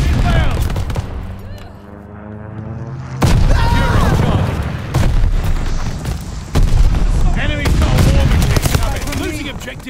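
Gunfire from an airstrike strafe in Call of Duty Mobile rattles in loud rapid bursts with heavy booming impacts, close and dense, mixed with game voice announcements.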